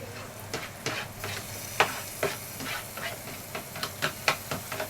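Finely chopped tomato stirred into sizzling egg bhurji in a hot pan, a steady hiss of frying under repeated spatula scrapes and clicks, close and continuous with no voice.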